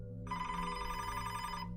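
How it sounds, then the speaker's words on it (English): A telephone rings with a steady electronic bell tone that sustains for over a second, then cuts off, heard clearly over a low background hum. "And there were other nights when Dennis was not at the house that the phone would ring"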